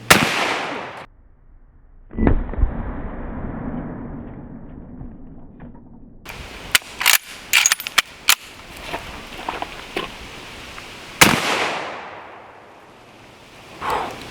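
Heavy gunfire from a big gun aimed at an outdoor target: a loud opening blast with a long fading rumble, then a cluster of sharp cracks and a final boom.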